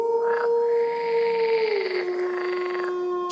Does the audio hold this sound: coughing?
no